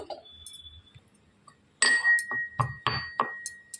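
A lid set onto a pot of simmering chicken soup gives a few sharp glassy clinks and rattles, close and moderately loud, after a quiet start.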